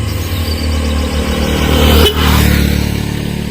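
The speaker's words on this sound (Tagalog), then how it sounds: "Yung motor ng labay." A motorcycle passes close by on a road, its engine hum building steadily and peaking near the midpoint before tapering slightly, heard alone without any talk.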